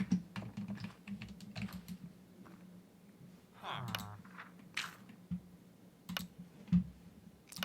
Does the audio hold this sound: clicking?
yes